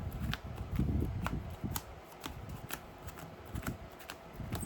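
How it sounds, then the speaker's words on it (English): Yu-Gi-Oh! trading cards are riffled and shuffled in a quick run of crisp, papery flicks and snaps, close up with no talking. "Just do a little power shuffle real quick."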